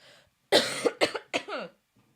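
A person coughs several times in a row, close and fairly loud, in a short, rough fit.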